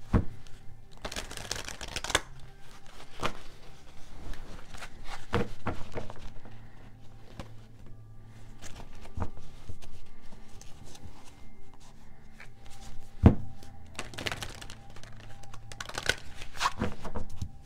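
A Psychic Tarot card deck being shuffled by hand: repeated riffling bursts and soft card slaps and taps come in uneven waves, close and clear, with no talking.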